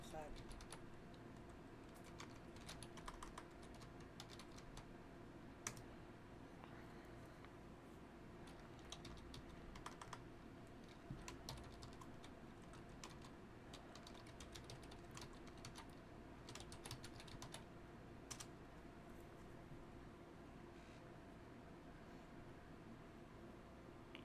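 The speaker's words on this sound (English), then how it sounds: "Type, stupid keyboard." Faint, quick clicking of a computer keyboard during a coin sale, with irregular bursts of keystrokes over a low background hum and occasional murmured talk.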